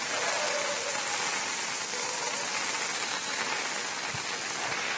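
Heavy rain pours steadily in Madikeri, a dense continuous hiss of water striking surfaces close by, unbroken and loud for the whole stretch with no voices.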